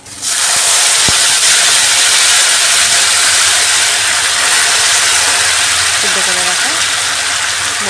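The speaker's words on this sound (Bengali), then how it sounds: "ফোড়নটা খুব সুন্দর ভাজা ভাজা হয়ে এসছে এবার এর মধ্যে ডাল দিয়ে দিচ্ছি" Lentils (dal) tipped into a pan of sizzling tempering spices, followed by a loud, steady frying hiss that fills the whole stretch at close range, with a brief clink near the start and a voice speaking faintly under it.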